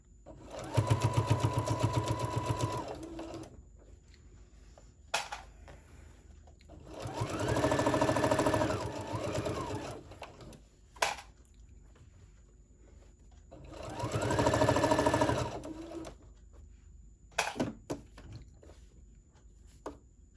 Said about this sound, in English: Sew yourself a top stitch all the way around, just so you can keep that lining fabric down and keep everything in place.